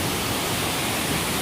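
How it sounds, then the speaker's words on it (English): Kaigal waterfall pours from the top of the falls in a steady, loud, unbroken rush of water, close by with no voices. "The water is coming from the top and just flowing down this way and goes down."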